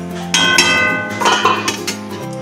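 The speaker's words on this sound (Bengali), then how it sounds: "এবার আমি আবারও ঢেকে দেবো।" A metal lid clanks onto a pot of home-style Bengali fish curry: a couple of sharp clinks of metal on metal, close and fairly loud, followed by a softer ringing rattle as the lid settles.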